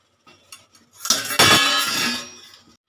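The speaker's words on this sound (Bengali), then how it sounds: "দশ মিনিট হয়ে গেছে ঢাকাটা আমি খুলে দেখব" Metal lid lifted off a momo steamer pot with a clink and clatter, followed by a brief loud rush of escaping steam, close up and with no talking.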